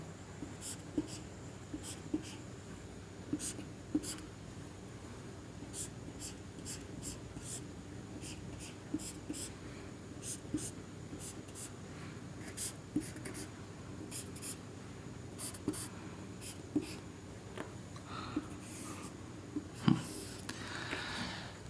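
Pen or chalk writing out a maths pattern: a quiet, steady run of short scratchy strokes and taps with brief pauses between them, heard close in an otherwise still room.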